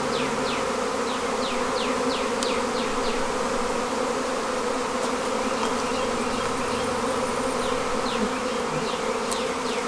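Dense, steady buzzing of many honeybees close by around a freshly moved hive, continuous throughout with individual insects droning past now and then.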